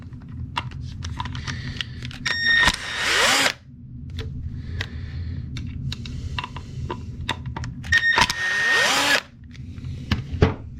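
Power drill or driver backing two screws out of the igniter in a Honda B- or D-series distributor, with two loud whirring bursts separated by quieter handling clicks and rattles of small parts; no talking.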